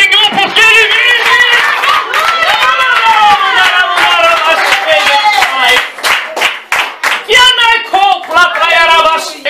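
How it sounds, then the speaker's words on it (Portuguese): A church congregation claps together in worship over loud singing and music, rhythmic hand claps punctuating sustained voices for the whole stretch, louder and sharper near the end. "Aplauda o Senhor porque ele vive."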